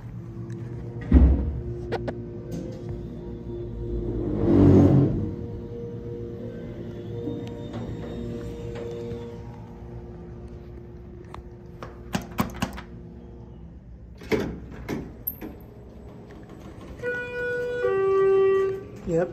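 An empty elevator car in a college residence hall makes a nasty mechanical noise. A steady low hum and whine runs under scattered clunks and knocks, with one louder rumbling surge and a rising tonal whine near the end.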